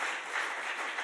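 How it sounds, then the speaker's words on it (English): An audience gives its guests a steady burst of applause, with dense clapping holding at an even level and no talking. "let's all give them a round of applause"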